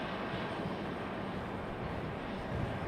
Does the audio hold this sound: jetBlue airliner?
yes